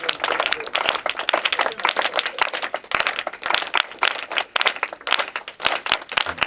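A church congregation claps together in worship at a church inauguration, sustained rhythmic applause with dense overlapping hand claps at moderate volume, with faint voices mixed in.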